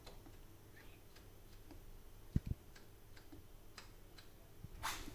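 A suspension damping adjuster on a Honda Beat being turned, heard as faint, evenly spaced ticking clicks, close and quiet, with a couple of sharper knocks partway through and no talk.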